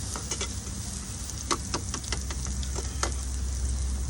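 Pork sizzles steadily on a hot Thai moo kratha grill, with a constant hiss broken by scattered sharp pops and crackles.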